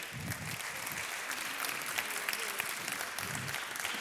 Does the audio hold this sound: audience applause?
yes